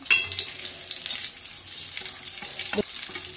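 Close-up crackling sizzle of eggplant frying in a pan until crisp, with a few scraping stirs and clinks against the pan.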